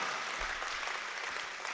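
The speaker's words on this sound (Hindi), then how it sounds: "तालियों की गड़गड़ाहट।" Soft, fairly distant applause from an audience at a Hindi poetry recitation, a brief steady patter of clapping hands with no talk over it.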